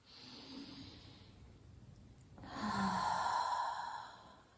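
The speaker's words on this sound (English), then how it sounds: "So just a few deep breaths." Slow, deep breaths during a yoga session. A soft exhale is followed by a louder, fuller breath out, close and calm, with no talking.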